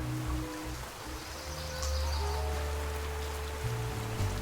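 Steady rain falls outdoors in the video game Duck Detective, a constant dense hiss with low ambient tones and faint musical notes underneath, no talking.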